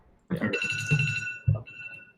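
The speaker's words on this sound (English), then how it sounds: "That's the alarm that says this show is over." An alarm rings to mark the end of a fantasy baseball strategy show, a steady high electronic tone sustained for about two seconds while people talk over it.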